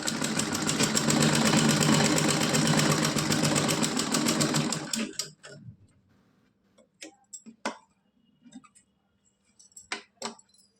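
A sewing machine stitches a double seam on a small doll dress in a steady, fast whirring run for about five seconds, then stops. Scattered light clicks and handling taps follow in near quiet.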